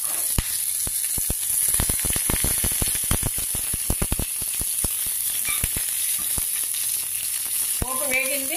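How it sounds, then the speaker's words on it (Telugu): Oil tempering with asafoetida and chopped curry leaves sizzles steadily and loudly up close, with dense crackling pops throughout as it is stirred. "పోపు వేగించి కొద్దిగా ఇంగువ, కరివేపాకు చిన్నగా కట్ చేశాను."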